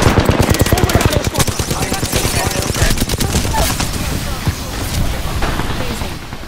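Rapid automatic gunfire in the battle royale shooter Apex Legends, a loud, close, fast stream of shots that gradually thins out, with game effects around it.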